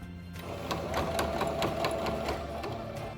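A sewing machine backstitches to finish a seam on a crochet bag, a rapid, steady run of close stitching chatter lasting several seconds.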